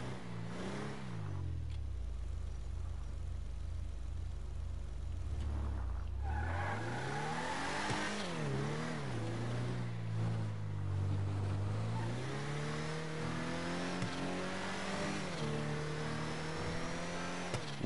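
A car in GTA 5 driving along, the engine droning and rising and falling in pitch as it accelerates and eases off, steady and fairly close for the whole stretch, alone with no voices.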